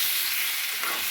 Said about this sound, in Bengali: এভাবে নাড়িয়ে নেব।